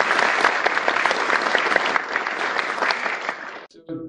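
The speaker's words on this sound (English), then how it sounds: "So I want to give a round of applause to everybody here" An audience at a Florida governor's public event welcoming Embraer S.A. to Brevard bursts into loud, sustained clapping that continues for several seconds and then fades out at the end.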